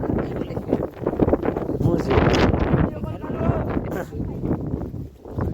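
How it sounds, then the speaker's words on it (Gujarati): Strong wind buffets the microphone on Girnar mountain at Junagadh during a climb, a loud, continuous gusting roar rising and falling throughout, with voices talking over it. "કેમ કે એટલો પવન જ હતો"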